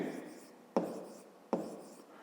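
Pen scratching across paper during a fifth-grade maths lesson, continuous soft writing strokes broken by two sharper taps about three-quarters of a second apart, close and quiet, with no talking.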